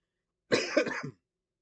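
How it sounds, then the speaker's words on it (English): A single short cough burst, close and fairly loud, with a couple of quick rough pulses, then silence. "My apologies if I occasionally cough throughout this review."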